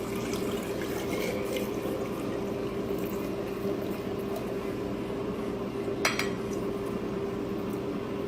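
A brine of water, white vinegar and canning and pickling salt is poured over eggs in a jar, making a steady, even rushing wash. A single glassy clink is heard near the end.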